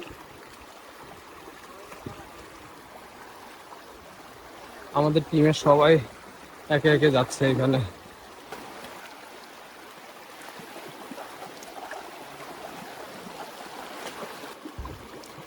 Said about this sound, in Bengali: প্রচুর পানির স্রোত